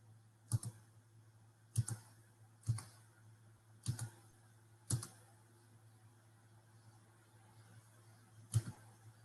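Six separate, quiet clicks of graphing calculator keys being pressed at uneven intervals over a steady low electrical hum.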